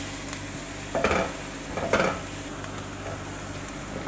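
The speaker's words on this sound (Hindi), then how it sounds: "इसको तकरीबन 30 सेकंड के लिए फ्राई करें ताकि लहसुन का कच्चापन" Chopped garlic frying in a pan for a Chinese chicken chowmein, a steady soft sizzle with a few stirring scrapes of a utensil against the pan, fairly quiet and close, with no talk.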